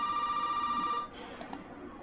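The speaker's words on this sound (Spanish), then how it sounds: "nos llaman al teléfono" Telephone ringing in the video game Resident Evil 7, a steady electronic ring tone lasting about a second before cutting off, followed by faint game ambience and a couple of soft clicks.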